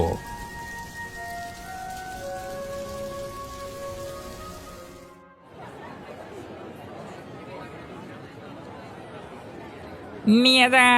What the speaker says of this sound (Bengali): বৃষ্টির মধ্যে যাসনি রে এভাবে, বাইরে বাজ পড়ছে তো